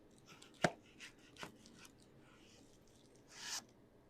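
A knife chops through a cantaloupe on a cutting board: a few sharp, close knocks with a crisp slicing rasp, spaced irregularly, the last a longer scraping cut through the melon.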